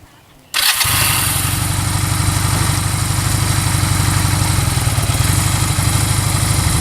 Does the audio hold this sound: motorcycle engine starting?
yes